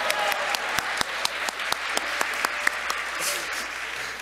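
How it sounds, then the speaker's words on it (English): Live audience at a tabletop board game show at a convention hall, clapping steadily in a dense wash of many hands, with a few sharper individual claps standing out, loud and close. "Stop clapping."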